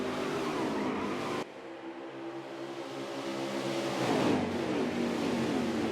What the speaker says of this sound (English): And we got a car sideways.